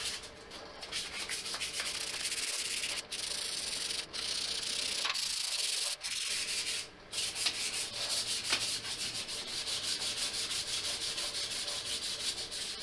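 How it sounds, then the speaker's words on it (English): Light sandpaper rubbed over the sealing surface of a Mini Model S belly pan part to clean off burrs, giving a steady, close, scratchy sanding rasp with a few brief pauses in the strokes. "I'm going to go around it with some light sandpaper just to clean up any burrs"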